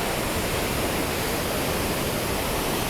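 Dhuadhar waterfall at Bhedaghat, Jabalpur, in a forested gorge, pouring as a steady, dense roar of rushing water that fills the whole clip with no break and no voices.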